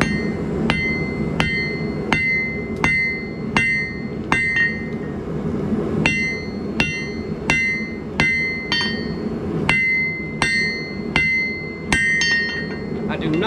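A steel dagger blade is forged with a hammer: sharp, ringing metal strikes land in a steady rhythm, close and loud, in two bursts separated by a short pause.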